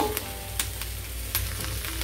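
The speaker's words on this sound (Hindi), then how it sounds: "ایک دو منٹ کے لیے ہمیں ویجیٹیبلس کو فرائی کرنا ہے" Vegetables fry in oil in a pan, a steady crackling sizzle running throughout with a few sharper pops and utensil clicks, close and moderately loud, no voices.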